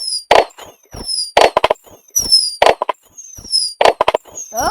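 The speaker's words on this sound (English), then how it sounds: "If I will continuously click, the full sky will fill with firecrackers." Repeated synthetic firework effects from a Scratch animation: whistling rises followed by crackling bursts, several in quick succession, loud and close.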